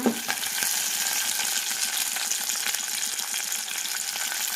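Ingredients for kandi guggillu crackle and sizzle in hot oil, a dense steady frying hiss with faint stirring, heard close with no talking.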